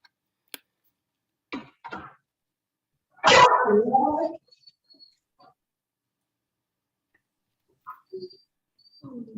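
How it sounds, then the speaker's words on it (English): A puppy lets out a few short, scattered barks and snorts, with a louder burst in the middle and long quiet gaps between them, picked up in a home during an online meeting. "I have a puppy roommate."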